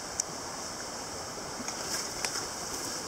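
Steady broadband rush of a river running past a small island, an even outdoor wash of flowing water with a few faint clicks and bumps close by.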